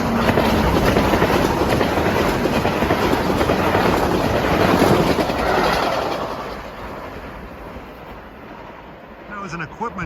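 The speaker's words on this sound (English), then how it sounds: "That was an equipment train out of Harmon headed for Grand Central." A Metro-North equipment train out of Harmon, bound for Grand Central, rushes past close on the Hudson line with a loud, steady roar and wheel clatter, then fades toward the end, leaving quieter ambience.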